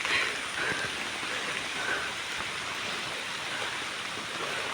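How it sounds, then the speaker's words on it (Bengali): Rain falls steadily on surfaces during a sunshower, a moderate, even patter of drops with a faint bird chirp or two, no talking. "এই দেখেন এই জায়গায় কি রোদ আর এদিক দিয়ে বৃষ্টি নামতেছে"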